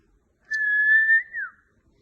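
A grade 1 child whistles a single clear, steady tone for about a second, ending with a brief falling note, close and alone in a quiet room.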